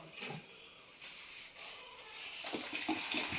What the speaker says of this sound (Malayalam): വിനാഗിരി ഒഴിക്കുന്നു കേട്ടോ.